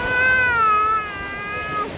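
A baby cries at the beach, scared of the water: one loud, close, drawn-out wail that sags in pitch and then carries on more softly, with no talking over it.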